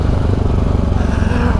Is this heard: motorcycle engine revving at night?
yes